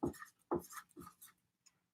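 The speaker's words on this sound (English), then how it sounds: "So I'm going to write blonde right here." Marker or chalk writes a word on a classroom board in three quick close strokes about half a second apart, each a short scratchy squeak. A faint tap follows near the end, in an otherwise quiet room.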